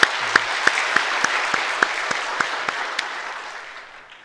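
A congregation claps during a Korean church worship service, a fairly even run of distinct hand claps that slowly thins and fades toward the end, in a reverberant hall.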